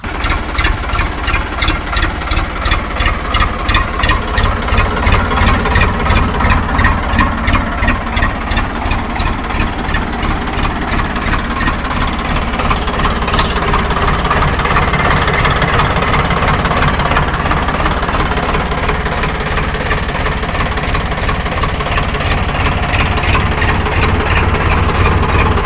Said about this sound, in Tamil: வண்டியை ஸ்டார்ட் பண்ணுறேன் பாருங்கள்.